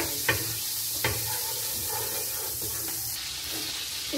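Butter melting in a hot pan for Filipino-style spaghetti sauce sizzles steadily and softly, close by, with a couple of sharp clicks or scrapes early on.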